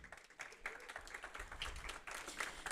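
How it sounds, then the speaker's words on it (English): A board of education meeting audience applauds the superintendent in a faint, steady patter of many hands clapping, heard from a distance in a large room. "I think she deserves a round of applause."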